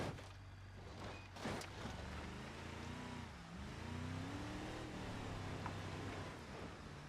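In BeamNG, a lifted D25 pickup truck's engine labors under load on a dangerous road, its pitch wavering and rising as it revs, with a dull knock early on and a rough, continuous drone.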